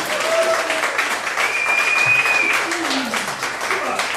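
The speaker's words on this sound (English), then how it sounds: "Let's give them a round of applause, folks" Small audience at a winery hypnotist show clapping continuously with cheers mixed in, a steady wash of hands under faint voices and tonal whistles.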